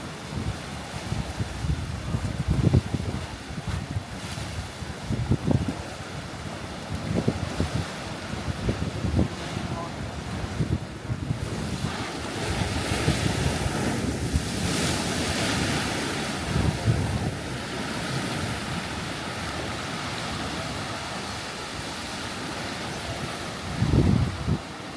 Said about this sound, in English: you can see the waves going in and out of the tunnel